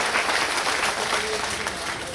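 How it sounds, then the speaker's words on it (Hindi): Dense applause from a large rally audience in a tent pavilion, a continuous wash of clapping without pauses, loud and close. "एक ताली बजाएं"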